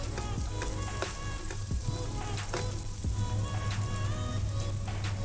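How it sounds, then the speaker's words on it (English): Finely chopped ginger and sliced onions sauté in hot oil in a pan, giving a steady close sizzle with crackles and occasional stirring scrapes and no talking. "the finely chopped ginger, and the sliced onions. Now saute them for a while until they turn translucent."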